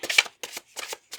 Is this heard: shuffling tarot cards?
yes